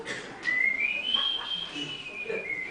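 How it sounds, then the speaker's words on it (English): A man whistles a tune, one long sliding melodic line that rises and holds, moderately close and clear over faint background noise. "I'm whistling a dirty song"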